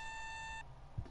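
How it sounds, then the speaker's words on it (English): A steady electronic beep, likely unwanted interference on a microphone during a Call of Duty Black Ops 3 zombies session, holds for about half a second and then cuts off, leaving faint background noise. "sorry about the beeping sound"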